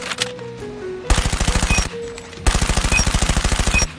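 The CBR Legend gun in the Call of Duty Mobile video game fires two rapid bursts of rattling automatic shots, each about a second long, with a short quiet gap and a faint click between them.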